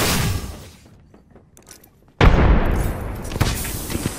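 A frag grenade from the Apex Legends video game goes off with a sudden, loud close-range blast, followed by a booming, rumbling tail that lingers and swells with a second burst near the end.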